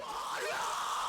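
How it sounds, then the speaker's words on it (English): Heavily distorted, effected screaming vocals sit in a rock song mix, a continuous harsh yell held back behind the instruments for about a second. "Heavily affected, heavily distorted screams there, just so they like kind of sit in the back a bit more"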